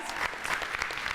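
An audience at a youth talent announcement event in Detroit claps briefly in a steady patter of applause, fairly faint and heard alone.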